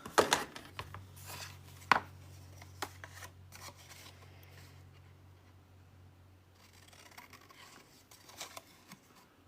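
Scissors cut through a Christmas card, giving sharp, irregular snips and rustles, loudest near the start and again at the end, over a faint low hum in a quiet room.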